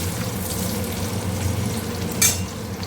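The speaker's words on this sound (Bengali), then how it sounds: "মাছগুলো নামিয়ে নিয়ে ওই তেলের মধ্যে পেঁয়াজ ভাজা করব" Onions frying in oil left over from frying fish, a steady close sizzle with bubbling crackle throughout and one brief sharp clink near the end.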